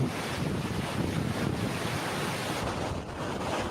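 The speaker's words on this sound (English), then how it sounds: "What you're looking at is one of the most terrifying forces of nature, storm surge." Hurricane Helene storm surge waves crash and churn under strong wind, a loud, continuous roar with gusty buffeting on the microphone.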